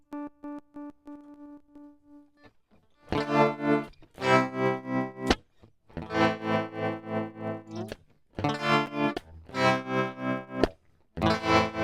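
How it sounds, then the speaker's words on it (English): Electric guitar through a CircuitPython-powered multi-effects pedal, first a few clean plucked notes, then loud distorted strummed chords in repeated bursts separated by short gaps. "Now, the moment y'all have all been waiting for, distortion."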